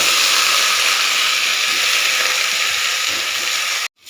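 Vegetables, including broccoli and a bit of raw turmeric, hit a hot pan and sizzle loudly in a steady, bright hiss that runs close and unbroken before cutting off abruptly near the end.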